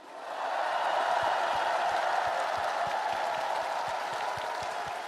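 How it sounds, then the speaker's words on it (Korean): A crowd at a party convention for a presidential nomination applauds for two candidates, swelling quickly into dense sustained clapping with faint rhythmic thumps underneath, easing only slightly at the end. "우리 두 분 후보님께 뜨거운 격려의 박수를 부탁드립니다"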